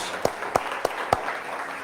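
Four distinct, evenly spaced claps ring out in a church congregation's offering of applause to Jesus, over a faint room murmur.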